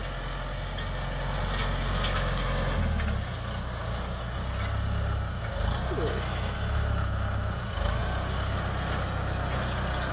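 A Kubota tractor engine runs steadily at close range with a low, continuous rumble while covering soil around fig trees, holding fairly even with slight swells, and a voice talks over it.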